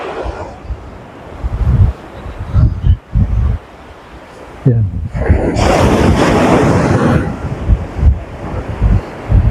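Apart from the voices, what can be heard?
ocean waves at Sabang Beach, Baler, Aurora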